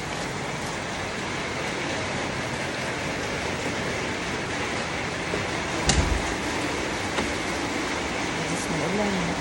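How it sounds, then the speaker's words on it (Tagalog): Steady, dense hiss of heavy typhoon rain in Antipolo City pours without letup, heard from indoors, with a brief knock partway through and faint background noise. "Malakas pa ang ulan sa labas."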